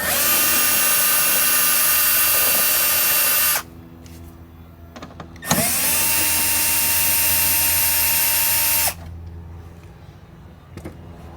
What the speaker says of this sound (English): These are 8mm, which I have my 8mm socket right here. So I'm going to go ahead and remove these.